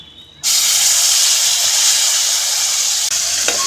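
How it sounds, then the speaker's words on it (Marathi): Ground paste dropped into hot homemade ghee for tempering bursts into a loud, steady sizzle after a quiet start, hissing strongly and continuously to the end. "मिक्सरला फिरवून घेतलेली पेस्ट टाकून टाकूया फोडणी त्या तुपात"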